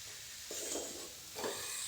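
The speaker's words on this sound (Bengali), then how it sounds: "দিয়ে দেওয়ার পর এটাকে নেড়ে নিতে হবে, খুব ভালো করে আবার নেড়ে নিচ্ছে" Meat with ground cumin is stirred in a hot pan, producing a faint, soft sizzle with two brief scraping stirs close by and no talking.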